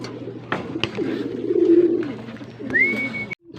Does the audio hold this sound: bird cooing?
yes